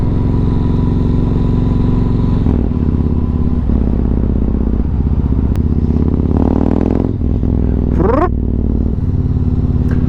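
Yamaha MT-01 motorcycle engine running close by with a deep, loud, lumpy throb that holds steady throughout, with light clatter and a brief scraping sound near the end; no talking.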